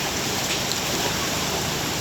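Heavy, steady rain pours onto a flooded street in Sungguminasa, Gowa, South Sulawesi, a dense, unbroken hiss of falling water with no let-up and no other sounds standing out.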